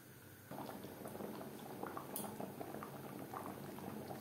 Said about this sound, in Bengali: আলু সেদ্ধ হওয়া পর্যন্ত অপেক্ষা করব।